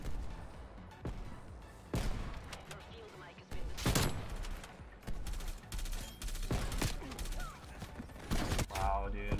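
Shotgun blasts and other gunfire in the Call of Duty Black Ops Cold War multiplayer game, several sharp bursts at irregular intervals amid busy game noise, with a voice talking over it.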